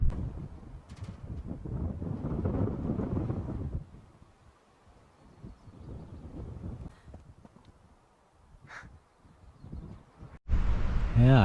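Gusty wind buffets the microphone on a Vermont hiking trail, loud at first, then easing to a quieter stretch before another strong gust.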